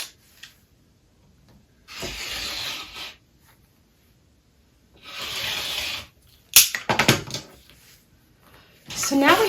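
Quilt fabric being cut along a ruler: two separate swishing strokes close by, followed by a brief clatter of handling and then another stroke.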